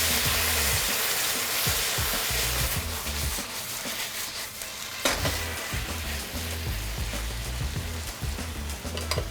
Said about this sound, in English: Now that the jackfruit's simmering in the barbecue sauce